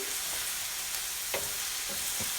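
Green chilies and onions sautéing in a pan for Kerala-style egg curry: a soft, steady sizzle with a few faint stirring scrapes, fairly quiet and free of talk.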